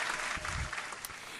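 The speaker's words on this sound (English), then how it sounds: "let's give a round of applause to Bomba y Plena" A short burst of applause from a small audience on a Latino community talk show, a steady patter of hand claps that fills the brief moment without fading.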